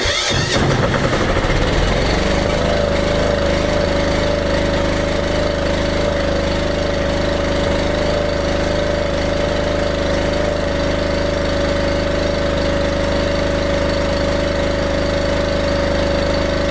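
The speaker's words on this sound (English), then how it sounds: "Silent generator this. It's running clean now." Silent generator engine running steadily after a faulty spell with its air filter removed, a loud continuous close drone with a steady hum that starts rough for the first two seconds, then settles, with no voices.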